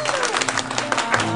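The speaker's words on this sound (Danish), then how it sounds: "vil du hvis du lige vender dig om og nejer til publikum, så klapper de fuldstændig vildt" A circus crowd applauds a performer with dense clapping, while a voice speaks over the applause.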